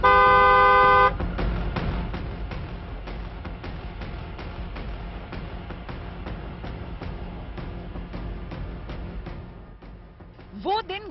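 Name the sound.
car horn honking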